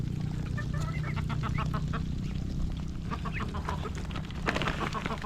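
Native farmyard chickens and ducks call together, ducks quacking in repeated bursts and hens clucking nearby over a constant background, with a person talking intermittently among them.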